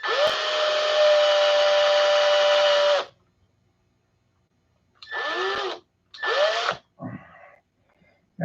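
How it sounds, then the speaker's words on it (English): A power drill working on a P-47 flap clip: one long whining run of about three seconds, a pause, then several short bursts as the motor spins up and slows down, close and clear. "Okay, I'll try to drill it."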